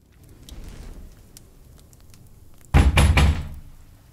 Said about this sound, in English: 3 more pounds at the door.